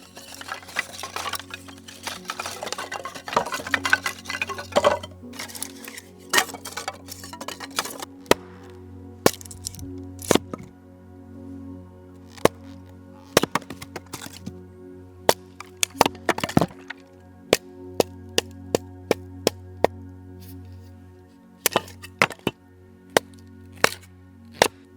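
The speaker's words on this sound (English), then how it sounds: "Kindling ASMR." Dry kindling wood snapped and cracked by hand, a busy cluster of crackling breaks at first, then sharp, loud, isolated snaps at irregular intervals over a low steady background hum.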